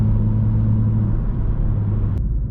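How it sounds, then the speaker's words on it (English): A BMW M2 F87 with a turbo engine heard from inside while driving, a loud steady engine drone and rumble that holds throughout with a faint whir on top, no talking. "you can really hear the turbo"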